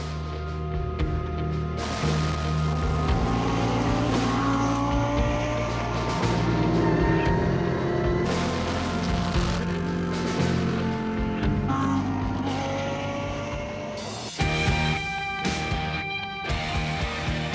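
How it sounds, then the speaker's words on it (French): Loud engines roar continuously as Spa 24 Hours racing cars drive past one after another on a closed national road, their pitch rising and falling, with a sharper burst of revving near the end. "Les voitures de course empruntent la route nationale fermée pour l'occasion"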